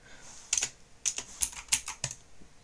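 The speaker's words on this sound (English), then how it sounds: "Then you can type whatever you want" Typing on a computer keyboard, with about six separate bursts of quick clustered key clicks spread irregularly across the clip, close and clear against a quiet background, with no talking.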